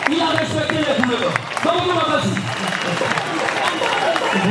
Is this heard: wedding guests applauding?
yes